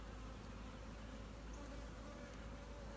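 Honey bees buzz in a dense, steady drone from a strong, packed hive opened for inspection, a continuous near hum with no pauses.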